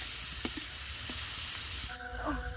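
Mutton frying in a little oil, a steady close sizzle and hiss with occasional stirring clinks, ending with a brief tonal whine over the crackle.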